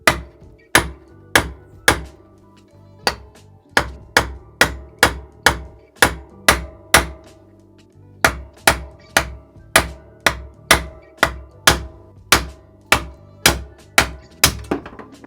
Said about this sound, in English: with your hammer, just give it a few sharp blows on the end